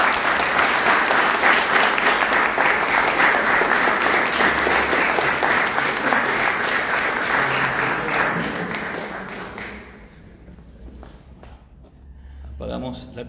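Dense, loud audience applause fills a book presentation on architectural design valuation, sustained for about nine seconds before fading into a quieter room with scattered claps near the end.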